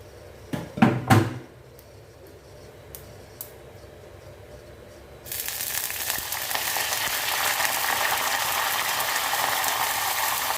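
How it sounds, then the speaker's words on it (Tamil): Mustard seeds, cumin and curry leaves hit hot oil and break into a steady, loud hiss of spluttering that lasts to the end, after a few clicks and knocks of cookware at the start, with no talking. "கருவேப்பிலை கடுகு சீரகம் நல்லா பொரிஞ்சு வந்துச்சுன்னா"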